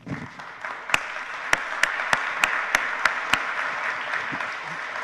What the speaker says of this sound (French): Je vous propose d'applaudir.